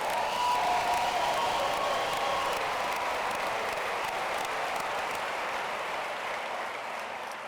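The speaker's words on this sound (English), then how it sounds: "Let's all give one more round of applause to the class of 2017." A large commencement crowd applauds steadily, a dense wash of clapping that holds throughout and fades slightly toward the end.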